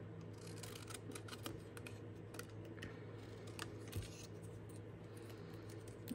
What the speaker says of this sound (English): I'm just going to use my scissors to cut them out.